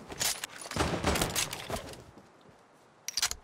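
Gunfire from the default weapon in Fortnite: rapid bursts of shots crackle through the first two seconds, fall quiet, then a short fresh volley returns just before the end.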